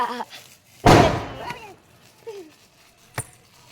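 A firecracker bomb going off nearby, one sharp loud burst with a short decaying rumble, followed later by a smaller pop, amid children's voices and chatter.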